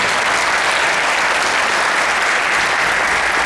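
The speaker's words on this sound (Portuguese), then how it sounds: "Uma salva de palmas" An audience applauds at the close of a round-table plenary session at an academic conference, dense, loud, continuous clapping throughout.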